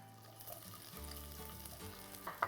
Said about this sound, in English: take our tomato paste and drop that right in. And then our prunes are going to go right in.